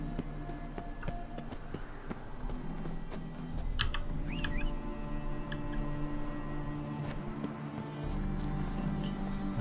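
Horse hooves clip-clopping in the video game The Witcher 3: Wild Hunt, Hearts of Stone, a steady rhythmic trot under faint ambient game sound, with a few brief bird-like chirps partway through.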